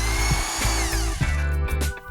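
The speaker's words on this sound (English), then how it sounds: "Then, drill a 3/16 inch hole, holding a piece of wood behind the door to minimize chipping." A power drill bores a 3/16 inch hole through a wooden kitchen cabinet door with scrap wood held behind it, a steady loud whirring grind that dips briefly mid-cut, close and alone.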